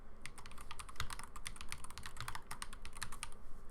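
Someone types a folder name on a computer keyboard in a quick, steady run of close, crisp key clicks with no pauses.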